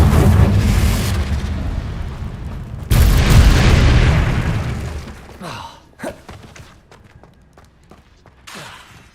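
The Confringo fire spell explodes in Hogwarts Legacy with a loud deep boom, then a second big blast about three seconds later, each trailing off into a rumble and followed by scattered smaller thuds and crackles.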